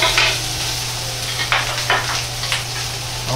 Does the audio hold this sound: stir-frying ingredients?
yes